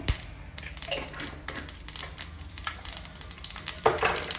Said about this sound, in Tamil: கடுகு பொரியிற சவுண்டு உங்களுக்கு கேட்கும்னு நினைக்கிறேன்